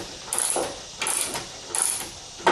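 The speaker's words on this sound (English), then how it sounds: "I don't know how much juice this ratchet has in it" A cordless power ratchet works on the rear brake of a 2015 Jeep Wrangler, giving about four short buzzing bursts of mechanical whirring with brief gaps between them, close and fairly loud, with no talking.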